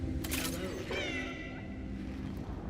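A black cat meows in a video game, a couple of drawn-out tonal meows heard close and clear over a low background, with a voice speaking briefly.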